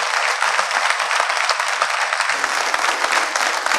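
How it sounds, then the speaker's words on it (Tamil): A crowd at a public speech breaks into loud, continuous clapping, dense and close, sustained without pause and without speech over it. "கைத்தட்டு பத்தாது."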